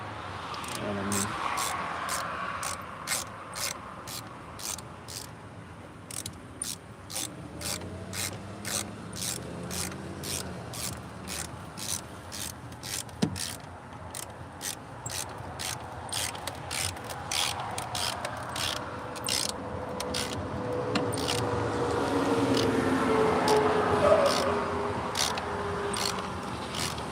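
A hand ratchet clicks in rapid bursts of sharp pawl ticks while snugging bolts down in the tight engine bay of a Lexus RX 330 during a knock sensor replacement, with low background noise between strokes.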